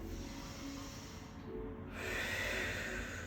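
A long, full exhale during a breathing exercise in a whole-body practice session: a soft, close, breathy rush of air that swells and fades over a few seconds with no speech.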